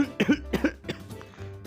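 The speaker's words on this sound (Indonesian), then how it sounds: "Batuk, minum dulu ya." A man teaching a lesson coughs several times in a quick, close burst, three or four rough hacks followed by a softer throat sound.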